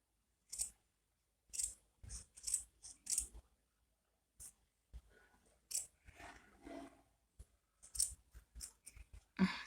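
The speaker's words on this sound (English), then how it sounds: "bring the pair of scissors and we start cutting." Scissors cut through a rug to make a door mat, giving repeated close, crisp snips in irregular bursts with quiet pauses between them and a soft rustle of fabric.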